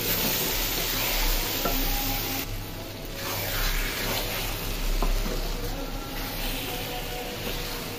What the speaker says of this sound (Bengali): এখন পানি দিয়ে দিব নাড়াচাড়া করে।